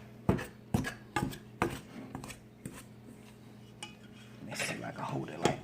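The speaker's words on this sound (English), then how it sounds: "You cut it all in using this cutter" A pastry cutter works butter and vegetable shortening into biscuit dough in a bowl, giving a series of sharp metallic clinks and chops in an uneven rhythm, close and fairly loud, with quieter scraping toward the end.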